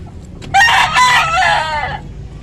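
A chicken in a backyard with chicks gives a loud, close call lasting about a second and a half, with a slight lead-in cluck before it.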